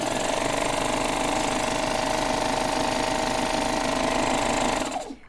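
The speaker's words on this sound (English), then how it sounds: "that loud noise is the air compressor, and it just kind of sucks the thread in" Air needle threader compressor on a Babylock serger sucking thread through, a loud steady buzzing rattle lasting several seconds, then cutting off abruptly at the end.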